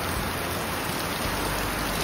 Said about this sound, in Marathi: थोडा वेळ आपल्याला वाट बघावं लागेल पाऊस जाण्याची।